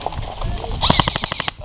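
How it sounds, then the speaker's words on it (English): Airsoft gun firing a rapid burst of evenly spaced shots during a Last Man Standing game at an outdoor airsoft site, close and fairly loud, following a short stretch of quieter ambient noise. "That's Ben's gun."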